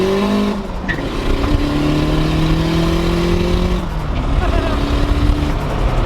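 Boosted Honda K20 Civic engine revving during a dyno pull, the note climbing and dropping twice in quick succession with a loud, raspy drone close by.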